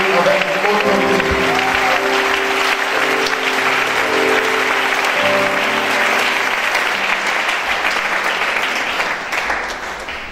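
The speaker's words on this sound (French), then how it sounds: "Si tu es d'accord, acclame-le avec autorité." Church congregation at an Easter service applauding Jesus, sustained loud clapping and cheering from a large crowd that keeps going for the whole stretch and fades slightly at the end, with voices mixed in.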